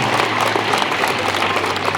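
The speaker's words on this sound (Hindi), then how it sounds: "पंडित जी के नाम से हम लोग एक बार जोरदार ताली देंगे हम लोग" A brief burst of steady, dense clapping from a crowd at an outdoor gathering in Lohardaga.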